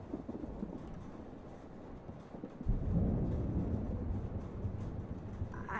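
A thunderstorm in the video game Life is Strange Remastered rolls in quietly, with a low distant rumble that swells partway through and lingers as a soft, continuous roar.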